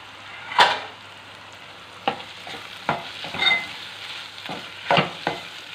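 A ridge gourd curry gets stirred in a pan with fried egg added, the spoon scraping in several distinct strokes over a low, steady sizzle, close and fairly quiet with no talking.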